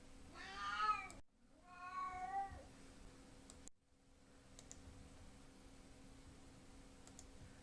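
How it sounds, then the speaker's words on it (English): A house cat makes odd sounds: two drawn-out, wavering meows in quick succession, close and clear, followed by near silence with a few faint clicks. "my cat's making strange sounds."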